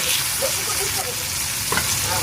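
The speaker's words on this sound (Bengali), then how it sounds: "মাছ ভাজার পর যে তেলটা জমে গিয়েছিল ওইখানেই পটলটা ভেজে নিচ্ছি" Pointed gourd (potol) frying in leftover fish-frying oil, a close steady sizzle with soft stirring scrapes through a brief two-second stretch.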